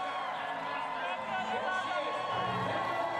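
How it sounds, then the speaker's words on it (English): A crowd cheers and whoops for a finishing sit-skier at a 2018 women's long-distance Paralympic race, a steady broad roar beneath a commentator's voice. "A huge welcome from the crowd here."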